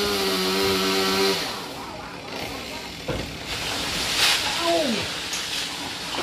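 A saw cutting a Sao tree in high wind, a loud steady engine whine that drops off after about a second and a half, followed by outdoor rustling and distant voices.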